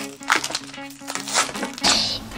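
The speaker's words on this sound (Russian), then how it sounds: "Чего-то какой-то непослушный пакет." A plastic packet from a Poopsie Slime Surprise toy is pulled and opened, giving close, loud bursts of crinkling and rustling in uneven spurts over a low background hum.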